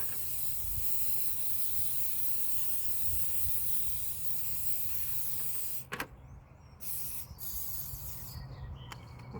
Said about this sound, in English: we're going to spray these bad boys down.